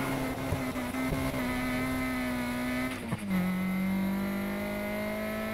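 A twin-turbo Nissan S14 in the racing game Need for Speed Heat drones along at steady high revs, its engine note holding a constant buzzing pitch and dipping briefly at a gear change before settling again, loud and continuous.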